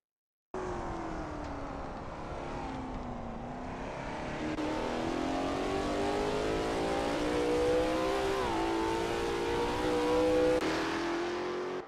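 A Lola T70 MkII Spyder race car engine roars continuously at Sebring, pitch rising and falling through gear changes as it accelerates, loud and close throughout.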